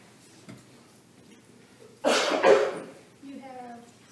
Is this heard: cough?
yes